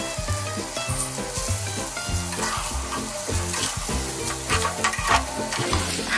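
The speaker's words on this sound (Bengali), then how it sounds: "আমার ডিমটাও এখানে ভাজা হয়ে গেছে। এখন আমি এখানে নুডলসটা অ্যাড করে দেব।" Boiled noodles with fried egg are stir-fried in a pot, giving a loud, continuous, close sizzle with rhythmic scraping and stirring throughout.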